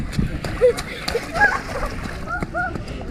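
Runners splash through a shallow water crossing on a parkrun course, with brief wet splashes and sloshing footfalls amid outdoor ambience and nearby voices talking.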